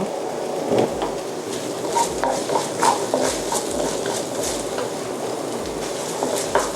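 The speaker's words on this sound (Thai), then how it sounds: "เราเราก็จะผัดให้หอม" Pounded paste for a tofu dish stir-frying in a hot pan, a steady sizzle and crackle with scattered scraping taps of a spatula, close and fairly loud with no talk.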